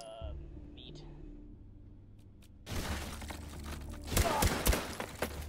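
A gun is hip-fired in the H3VR virtual reality shooter. A quiet stretch gives way to loud noisy action, then a tight cluster of sharp, close gunshots rings out near the end while someone talks.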